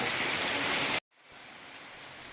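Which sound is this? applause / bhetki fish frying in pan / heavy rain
heavy rain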